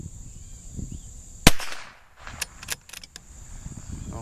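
A Ruger Precision Rimfire fires a .22 rifle shot as one sharp, loud crack, followed by softer clicks and clatter from the rifle being handled.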